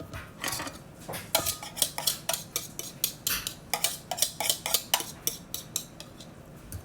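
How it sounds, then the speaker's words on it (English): A whisk beats egg yolks into milk in a bowl for a chocolate pie filling, producing a fairly quiet run of rhythmic metallic clinks and swishes that builds into a fast, regular beat. "We're going to whisk really good."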